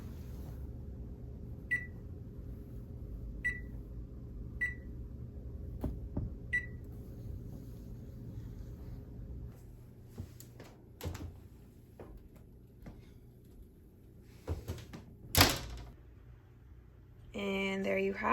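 Several short electronic beeps sound from a kitchen oven timer being set for a bake at 400 degrees, followed later by a louder thud of the oven door closing, all fairly faint against a quiet room hum.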